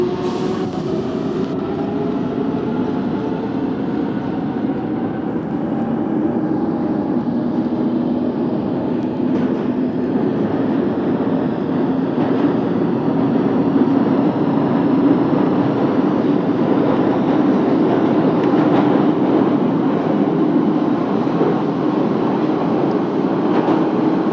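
A London Underground Jubilee line train in the OpenBVE train simulator game rumbles steadily along with a low continuous roar and faint rhythmic clatter, sustained throughout without any voices.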